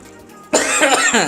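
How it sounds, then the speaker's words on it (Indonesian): A single sharp cough bursts out after a brief quiet hum, close and loud. "itu batuk namanya"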